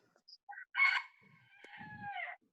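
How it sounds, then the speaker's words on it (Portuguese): A rooster crows once in a long, clear call, fairly close, after a few short chirps and bursts of sound, with no talk over it. "Vocês estão ouvindo o galo?"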